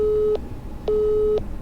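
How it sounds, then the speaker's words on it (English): A telephone busy signal, reached when calling a cell phone, sounds as a steady low tone in evenly spaced beeps, about three pulses with half-second gaps, clear and alone. "User busy again."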